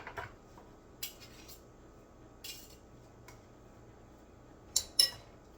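A spatula scrapes and taps against a pan while spreading filling for a banana split cake, a few sparse metallic clicks and scrapes close by over a quiet background.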